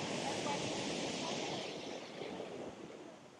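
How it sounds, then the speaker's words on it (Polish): Large ocean waves crash and wash over a seaside pool in Sydney, a continuous broad roar of surf that slowly fades. A voice is faintly present. "Ja cię kręcę, jakie fale."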